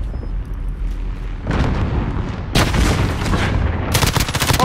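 Loud bursts of video game gunfire in an online shooter, with heavy booming shots and rapid cracking volleys that build toward a dense, close barrage at the end.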